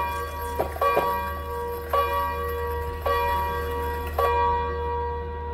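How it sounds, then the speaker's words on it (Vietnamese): A pendulum clock with a 30-day movement strikes its chime in about five resonant, evenly spaced bell-like strokes, each ringing on before the next, over a low steady hum. "tiếng chuông của nó vang vọng. Đấy, như tiếng chuông nhà thờ luôn."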